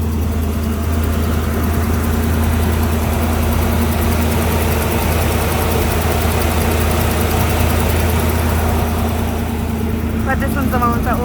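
A truck engine idles steadily with a deep, even rumble that runs throughout, loud and close, with a faint knock in the rhythm and no talk over it.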